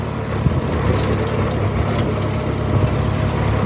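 Farm tractor engine running steadily during silage hauling, a continuous low rumbling drone with no clear break for the shift into fourth gear.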